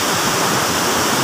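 The strong current of the Tala River in Bailen, General Emilio Aguinaldo, Cavite rushes loudly and close by, a dense, unbroken roar of churning water with no voices.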